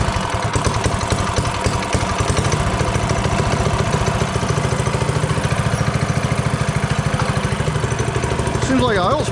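A go kart engine runs steadily close by with a rapid, loud, even putter, holding a constant pace throughout.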